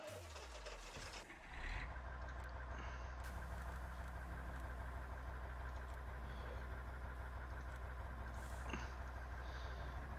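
A truck engine in Landwirtschafts-Simulator 19 idles with a steady low diesel rumble, constant and close, after a brief shifting sound at the start, with no talk over it.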